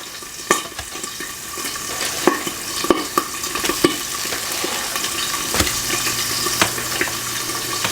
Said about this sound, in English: And when that happens, then I will turn my pancakes.